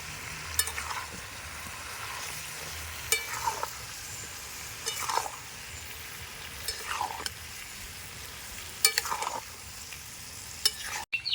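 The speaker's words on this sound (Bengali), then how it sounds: "এবার ভালো করে আমি নাড়াচাড়া করে আমগুলোকে একদম ভেজে নেব" Mango pieces fry in oil for pickle, a steady soft sizzle broken every second or so by a spoon scraping and stirring through the pan.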